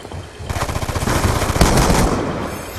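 Sustained rapid automatic gunfire from a Treyarch video game in gun game mode, a loud close burst of overlapping shots lasting a few seconds, mixed with game effects.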